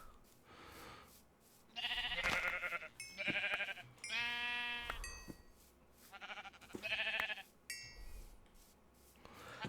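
Repeated bleating from Minecraft sheep in the FTB Continuum modpack, a flock of overlapping baas coming in bursts every second or two, close and clear over faint game background noise.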